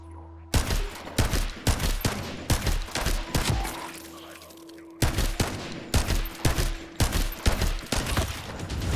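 Bursts of gunfire in The First Descendant video game, loud close volleys of rapid shots separated by a short quiet gap before firing resumes, with a faint steady hum beneath.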